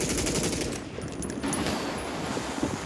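Rapid automatic gunfire in a battle-royale video game, with dense bursts of shots crackling continuously and loudly up close, some louder pops standing out, with no talk over it.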